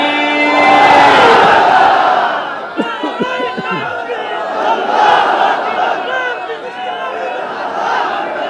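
Large religious gathering shouting a unison takbir response, a loud massed roar of voices that rises, breaks briefly, then swells again with scattered individual shouts.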